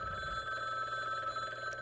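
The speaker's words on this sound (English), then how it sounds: "I know the phone is ringing" A steady electronic telephone ring from the video game Frog Detective 3, a continuous bright tone holding level throughout with no talking over it.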